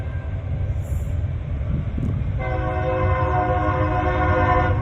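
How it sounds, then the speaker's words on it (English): A train rumbles steadily in the background and then sounds its horn in a long, loud, sustained blast, heard with no one speaking. "That was a train behind me."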